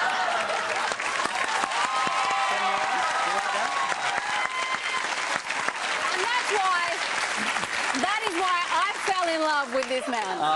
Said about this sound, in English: Wow, one person applauded that.